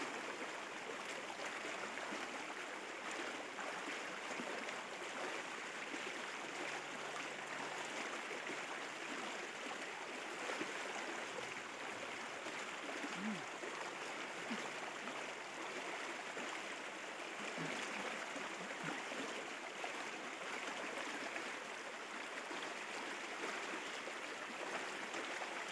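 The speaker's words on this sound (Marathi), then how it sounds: "तिथे लय पाण्याचा लोट आहे रे. लय लोट आहे इथे." A strong river current rushes past a crab-trapping spot, a steady broadband roar of flowing water that stays constant and fairly faint for the whole stretch, with no voices.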